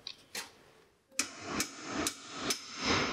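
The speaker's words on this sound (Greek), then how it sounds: "Σφυράκι σιγά σιγά" A small hammer taps steadily on the tie rod end of a BMW E30 M3, five sharp metallic strikes spaced about half a second apart, close and distinct against a quiet workshop background.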